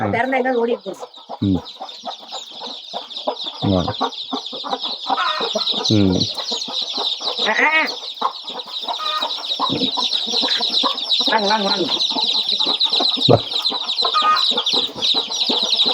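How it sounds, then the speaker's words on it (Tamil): Free-range country hens on a native chicken farm cluck continuously, with repeated loud squawks and calls over a steady high-pitched background buzz, and someone talks briefly in between. "இந்த தாய் கோழி உள்ளேயே இருக்குங்க ஐயா"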